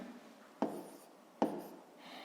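Numbers being written down by hand, two sharp taps of a pen or chalk with soft scratching between them, close and quiet, with no talking.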